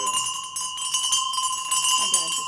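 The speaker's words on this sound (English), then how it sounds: "So these guys are brass bells" Hanging brass bells ring continuously nearby, giving a bright shimmering jingle over sustained clear tones, with no one speaking.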